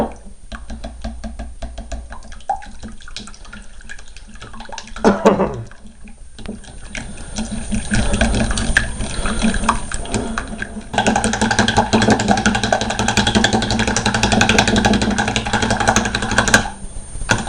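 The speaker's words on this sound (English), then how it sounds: "Just whisk until smooth." A whisk beats a custard mixture for crème caramel in a bowl, giving a rapid, continuous rattling scrape that builds louder and busier partway through and runs on close to the microphone.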